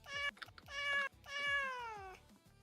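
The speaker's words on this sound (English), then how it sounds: "we have a cat right here" A house cat meows indoors, two long, loud, drawn-out calls close by, the second stretching and falling in pitch, with short soft chirps and small thumps between them.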